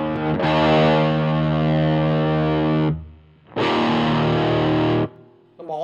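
Electric guitar played through a Bullet BT 45 R amplifier, two loud sustained distorted chords each held a few seconds with a short gap between, then a brief restart at the end.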